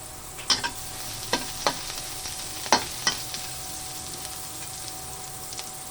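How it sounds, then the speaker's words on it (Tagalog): Garlic sautés in a pan for tinola, a soft, steady sizzle broken by several sharp utensil taps and scrapes, clustered early and then sparse. "Isitod natin ang bawang"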